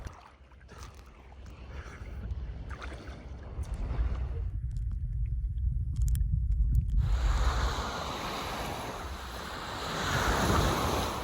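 Sea waves at Sal island, Cape Verde, wash in with a low rushing surge and heavy wind buffeting, then break into a bright hissing foam that swells again toward the end.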